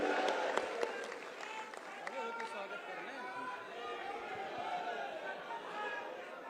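Crowd clapping to welcome a new leader at a BJP political gathering in Uttar Pradesh, sharp claps at first settling into a mixed murmur of chatter and scattered applause.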